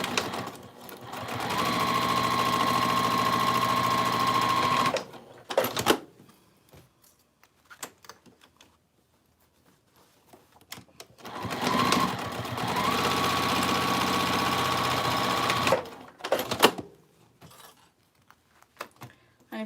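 Sewing machine stitching fabric zipper pouches, running in two long steady bursts of several seconds each, separated by quiet gaps with small handling clicks.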